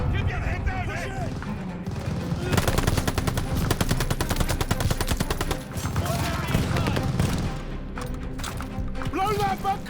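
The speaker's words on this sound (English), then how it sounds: "Need to deal with that MG!" Machine gun fire in the video game Call of Duty Vanguard, rapid sustained bursts of automatic shots mixed with other gunfire, loud and dense, with shouting voices over the battle.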